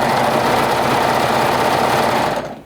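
A twin-needle sewing machine stitches a skirt hem in one steady, loud whirring run for a few seconds, then winds down to a stop, no talk.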